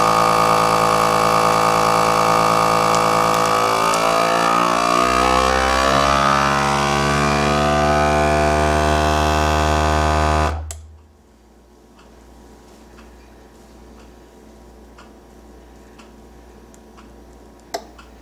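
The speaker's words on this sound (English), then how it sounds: "So let's go ahead and vacuum seal it." A vacuum sealer draws air from a bag of homemade bratwurst, a loud steady motor hum with rising whine that cuts off abruptly, followed by quiet faint ticks.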